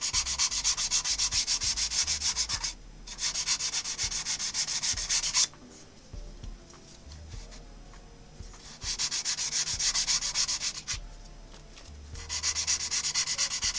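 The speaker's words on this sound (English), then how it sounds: "Doing some light sanding with the grain to get rid of any tool marks from the abrasive." Sandpaper rubs by hand along the grain of a turned wood piece in long, steady rasping strokes, several seconds each, with brief pauses between passes; close and fairly loud, with no talking.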